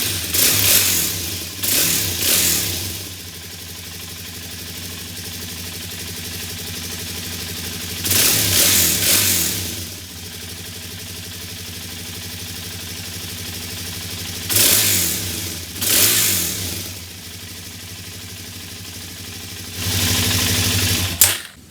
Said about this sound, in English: This will be a cold start with no enricher,